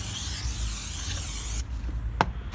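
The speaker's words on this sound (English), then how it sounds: "So you just need to clean that off with this brake cleaner." Brake cleaner sprayed from an aerosol can onto new brake discs for a Mercedes Sprinter van: a steady, loud hiss lasting about a second and a half, then a quieter stretch with one short extra burst.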